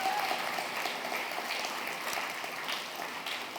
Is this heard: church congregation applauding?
yes